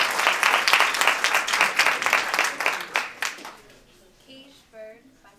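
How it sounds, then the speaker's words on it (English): A poetry recitation competition audience breaks into dense applause that runs for about three seconds before fading, leaving sparse claps and a quiet room. "let's hear a round of applause for Christelle Jean-Baptiste"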